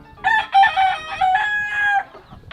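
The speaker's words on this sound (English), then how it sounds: "Listen to the rooster." A rooster crows loudly and close, one drawn-out cock-a-doodle-doo that rises and holds before trailing off.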